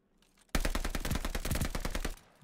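Automatic gunfire in Call of Duty: Vanguard during a multiplayer bomb match, a loud rapid burst of about a dozen and a half shots in quick rhythm, starting abruptly after a quiet moment and cutting off sharply.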